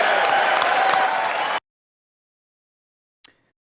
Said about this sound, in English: I heard the applause